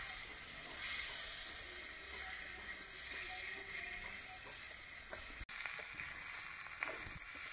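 Potatoes fry in a pan for a Bengali mourola fish dish, giving a steady, close sizzle and hiss with occasional stirring scrapes near the end. No one speaks.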